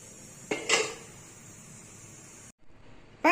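The metal lid of an idli steamer pot is lifted and set down with a couple of clanks and scrapes, close but fairly quiet, followed by another metallic knock at the end, with no talk.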